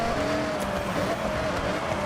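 Race cars in the Forza Horizon 6 video game, driving through a Japanese landscape, give a continuous engine drone with a faint whine of tires, loud and steady throughout without a break.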